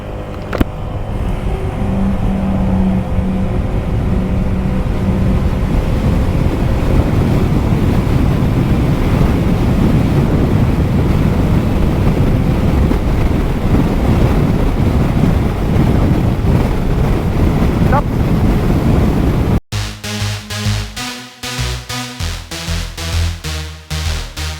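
Heavy, steady wind roar buffets the rider of a 2023 Honda PCX 125 scooter on the freeway behind its small windscreen, loud and continuous, then giving way to a rhythmic, pulsing engine drone near the end.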